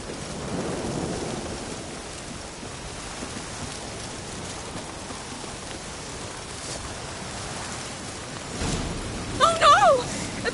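Rain and a thunderstorm in The Witcher 3 make a steady broadband hiss that runs throughout, with a faint low rumble partway in and a brief animal-like cry near the end.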